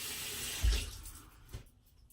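Water splashes briefly from a tap or sink while a hair brush is wetted, a soft close burst of running water that fades quickly, with a small second splash near the end.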